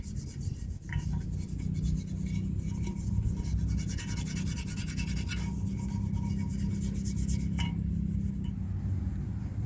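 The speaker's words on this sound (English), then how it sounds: "Scraped everything down with the toothbrush." Steady scrubbing of engine cylinder heads with a toothbrush during an LS swap on an 87 Trans Am, a continuous close rasping rub with brief louder strokes and no talking.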